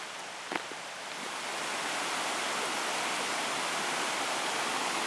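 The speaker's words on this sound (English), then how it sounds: "Our leats now become a river" Water rushes along a leat near the Luxulyan Viaduct and tramway in Cornwall. It makes a steady, broad, hissing roar that starts a little softer and grows fuller, with a couple of faint knocks early on.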